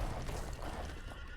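Elven horses in a strategy game give a short, faint whinny, alone and lasting barely over a second.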